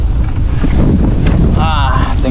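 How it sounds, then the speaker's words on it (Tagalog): Strong wind buffets a boat at sea, a steady loud roar filling the whole clip, with a brief thin whistling tone near the end. "mahangin."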